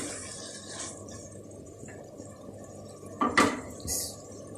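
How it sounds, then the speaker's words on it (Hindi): Fried okra being added to chicken in a pan, soft background hiss broken by clinks of a utensil against the pan and a short clattering scrape, close by, with a faint higher clink near the end. "जो मैंने फ्राई की थी भिंडी वो मैं डाल रही हूँ।"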